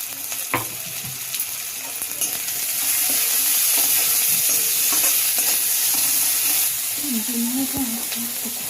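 Chopped onions and salt fry in a pan with steady sizzling, broken by the scrape and clatter of stirring. The sizzle grows louder midway, and a brief voice-like tone appears near the end.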